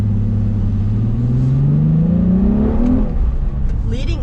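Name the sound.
car engine roar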